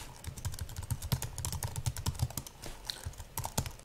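Rapid typing on a computer keyboard, close and crisp, with dense clattering keystrokes in quick bursts and a brief pause near the end, no voices.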